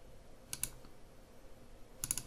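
Two short bursts of typing on a computer keyboard, a few quick key clicks near 0.5 seconds and another cluster at the end, soft and close, with quiet background between them.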